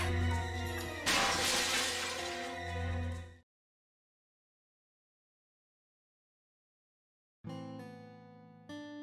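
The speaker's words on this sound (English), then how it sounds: "They hear the sound of objects being smashed and shouts that could be from rioters." Objects being smashed in the video game Labyrinth of Galleria: a loud shattering burst with ringing glassy tones that fades out, then after a silent gap, another sharp smash and a brief hit.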